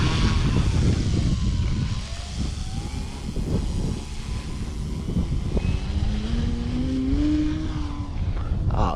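A Titanium Trainer model airplane throttles up for takeoff on its second flight, its engine buzzing steadily while a strong wind rumbles close by, the note rising in pitch toward the end.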